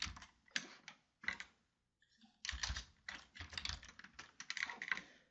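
Quiet, close computer keyboard typing in irregular bursts of clicking keystrokes, with one brief pause partway through, heard alone without talk.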